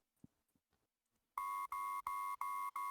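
Electronic beeping from the Ace Attorney Investigations 2 video game: after a few faint soft clicks, a loud, steady tone pulses in a regular on-off rhythm of about four evenly spaced beeps, clear and close.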